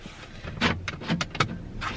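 A car's central locking engaging, giving a few short mechanical clunks and whirring actuator bursts close by, spread across a couple of seconds with a faint background hum.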